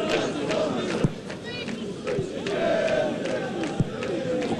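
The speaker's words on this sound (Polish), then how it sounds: "Teraz brawa od kibiców." Fans at a Legia Warszawa football match in a stadium cheer and clap, a broad continuous crowd roar with scattered shouts and a couple of sharp claps or bangs, under occasional commentary.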